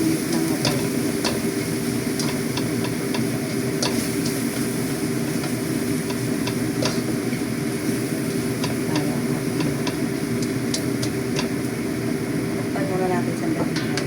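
Meat frying in a pan for an eggplant, tofu and meat dish, giving a steady, dense sizzle that runs unbroken throughout with faint ticks and pops scattered over it.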